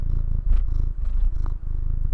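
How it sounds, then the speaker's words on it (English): Maddox the cat purring close up, a steady low rumbling purr with a soft rhythmic pulse, fairly loud and continuous with no talk. "Oh, he's purring."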